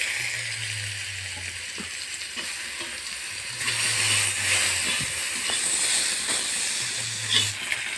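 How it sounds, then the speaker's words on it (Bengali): Banana slices seasoned with turmeric and salt sizzle steadily in hot oil, a continuous close frying hiss with occasional stirring clinks and a low hum in the background, no talking. "পটল ভাজা হয়ে গেছে, এবার করব কলা ভাজা।"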